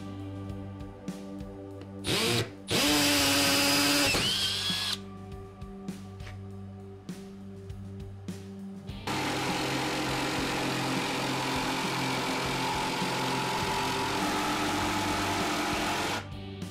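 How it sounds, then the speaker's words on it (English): A drill boring a pilot hole in a wooden shelf, then a jigsaw cutting the wood, short whining bursts followed by a long, steady buzzing cut, close up. "Let's drill a pilot hole and cut it out with a jigsaw."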